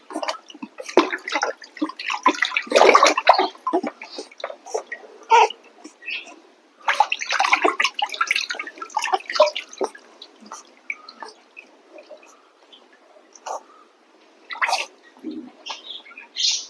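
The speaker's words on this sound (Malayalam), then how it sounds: "വെറും വെള്ളത്തിൽ തന്നെ കേട്ടോ കുളിപ്പിക്കുന്നത്" Water splashes and drips in irregular bursts as a small puppy is bathed in a bathtub with plain water. The short, close wet sloshes come with quiet gaps between them, and a few faint chirpy squeaks and soft voices are heard now and then.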